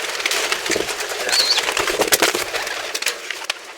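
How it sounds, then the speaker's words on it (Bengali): A captive pigeon, just released by hand, flutters and flaps its wings in quick, noisy bursts close to the listener, with light cooing and bird calls mixed in. "এই পায়রাটা ছেড়ে দিয়ে দেখো কত ছটফট করে উড়ে যাবে"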